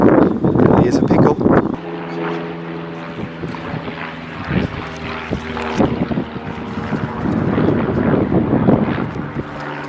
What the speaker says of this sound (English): There's a heck of a lot of planes going past.